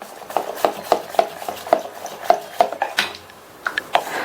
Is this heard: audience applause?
no